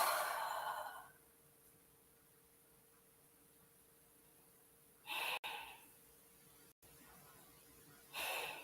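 Breathing during a neck and posture exercise: a loud, airy inhale-exhale at the start, then near silence, followed by two more short, close breath bursts.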